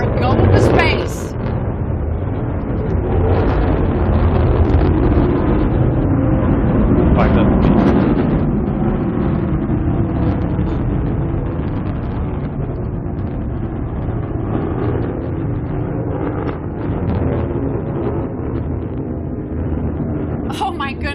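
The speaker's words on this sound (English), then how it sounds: "listen to the roar of the BE-3 engine" The BE-3 engine of a New Shepard rocket roars through its launch, a continuous deep rumble running the whole stretch while a commentator speaks excitedly over it.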